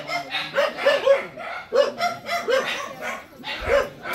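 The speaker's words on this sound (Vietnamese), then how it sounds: "mấy tụi chó nó nghe mấy anh em mình vô á, nó sủa nó la quá trời luôn" Several dogs bark in a rapid, overlapping burst of loud barks and yips at close range, with a short pause before barking again.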